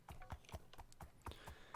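Donkey hooves clopping in Minecraft, a quick, steady run of soft, close thuds with no voices, about seven or eight steps in under two seconds.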